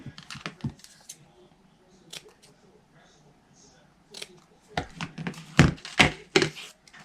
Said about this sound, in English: I'm just going to use my fabric scissors to cut it.